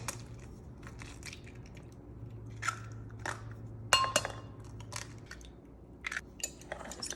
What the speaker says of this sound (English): we're going to be cracking 6 eggs, just like so